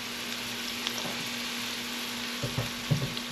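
Onion and garlic sautéing in a pan for vegetable spring rolls, a soft steady sizzle with a faint hum underneath and a few light utensil taps near the end.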